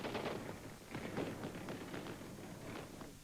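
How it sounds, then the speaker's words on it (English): Celebratory gunfire in Kuwait City in 1991 as a military convoy becomes a victory parade, heard as a dense, continuous crackle of distant shots with no clear gaps. "this time the gunfire was in celebration"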